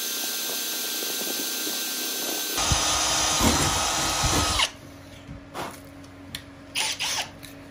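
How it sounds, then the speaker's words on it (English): A power drill whines steadily for a couple of seconds boring a small pilot hole in a Kubota BX tractor, then stops, followed by a few short clicks and handling knocks close by. "Now I'm gonna drill a small pilot hole."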